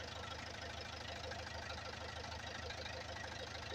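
A rebuilt Isuzu 4BE1 diesel engine idles after a general overhaul, running steadily with an even, rhythmic knock and low mechanical hum, close and constant throughout.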